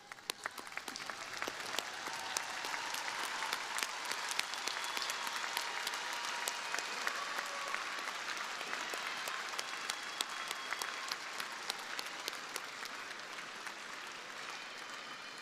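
A graduation audience rises in a standing ovation, with dense, sustained applause from a large crowd that swells early and holds steady at a distance for the whole stretch.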